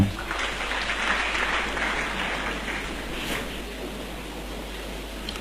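A church congregation applauds together, a broad wash of clapping that starts strong and gradually eases off without stopping.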